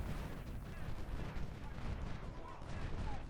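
Artillery fire rumbles through a Civil War battle at Fredericksburg in a strategy game, with dense, overlapping booms rolling continuously at mid distance.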